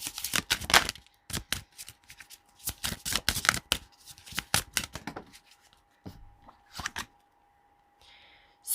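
Tarot cards being shuffled by hand, with crisp riffling bursts in quick runs broken by short pauses and a steady faint hum beneath, close and fairly loud.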